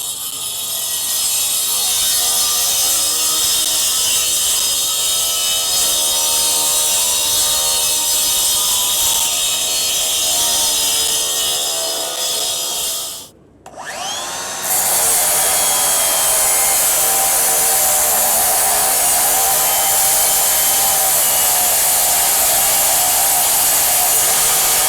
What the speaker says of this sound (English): wet cutting here with the diamond wheel, cutting through a concrete slab